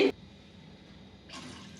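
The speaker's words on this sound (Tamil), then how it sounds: "ரெண்டு டம்ளர் தண்ணி ஊற்றலாம்" Two tumblers of water pour softly into a pot while cooking pasta after a short pause, a quiet close-up splashing hiss.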